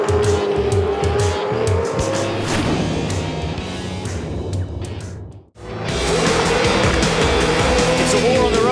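V8 Supercars race on the Adelaide street circuit in the 2012 series, with loud engines roaring close by and tires squealing. The noise dips sharply for a moment before the roar returns, under commentator talk.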